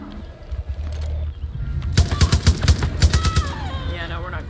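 A light machine gun in Far Cry New Dawn lets loose a loud, rapid burst of about a dozen sharp shots after a quieter moment of ambient game sound, with some echo trailing the fire.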